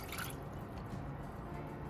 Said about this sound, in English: So in goes our vinegar.